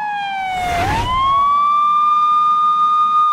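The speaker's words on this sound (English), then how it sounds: "There's a police siren in front of me." A police siren wails loudly in a video game where a helicopter bombs a city. The wail dips once, then rises into a steady, sustained tone.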